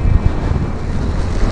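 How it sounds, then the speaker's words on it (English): Strong gusting wind buffets a rider on a Yamaha XJ6 motorcycle on gravel roads in Iceland, a dense, low roaring rumble pressing hard on the microphone for a brief moment. "I can feel how the wind is pushing me on the rocks"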